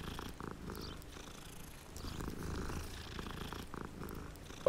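A cat purrs steadily in Hogwarts Legacy, a continuous low rumbling purr close up, running alone without talk.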